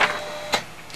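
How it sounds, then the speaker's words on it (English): An Epson FX-86e dot matrix printer prints a test page, giving short buzzing rasps of the print head with a steady mechanical whine underneath, close and alone. "A test page is now being sent to the printer."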